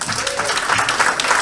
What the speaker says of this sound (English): Can we give another clap, please?